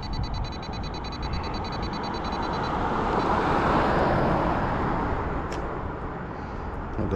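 A road vehicle drives past, its broad rushing noise building gradually to a crest partway through and then fading, with a brief higher sound near the end and no voices.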